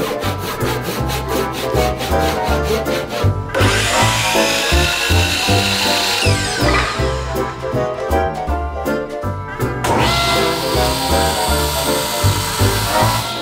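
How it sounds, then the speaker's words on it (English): A saw cuts through a piece of wooden Georgian moulding with fast, rhythmic rasping strokes. The cutting is loud and close, pauses briefly twice, then resumes. "As I cut off a piece of the molding"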